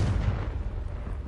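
A Confringo spell blast in Hogwarts Legacy, a heavy booming explosion with a deep rumbling low end that swells at the start and then rolls on steadily without fading out.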